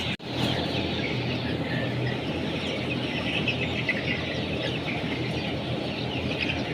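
Chickens, one with three legs and one with four, kept outdoors, clucking amid a busy background of bird calls and rustle, fairly continuous with a sharp knock at the start.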